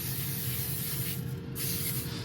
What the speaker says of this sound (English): I'm just gonna spray it with a little coconut oil